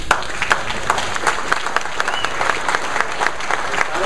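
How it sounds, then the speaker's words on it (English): A Tea Party audience claps for Sheriff Joe Arpaio at a political gathering, a steady close wash of many hands with sharper individual claps, some crowd murmur and no clear speech over it. "I don't know why you're clapping for me."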